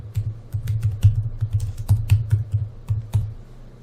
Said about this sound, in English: let's type in Metropolitan Museum